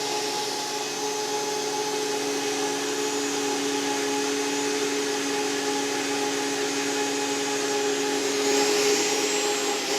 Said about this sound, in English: You can see how the material goes through the blades and gets cut and gets blended in finer and finer.